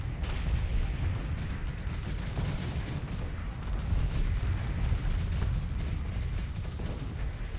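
Weapons fire in a Starsector space battle, a video game, comes as a steady, heavy barrage of overlapping booms and thuds, continuous and loud with no pauses.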